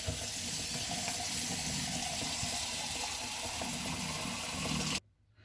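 Tap water runs steadily into a blender to rinse out leftover juice, a loud, close gushing stream that continues for several seconds before cutting off abruptly.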